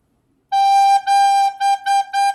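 A recorder plays a steady middle G, first one long tone, then several shorter repeated tongued notes, clear and close.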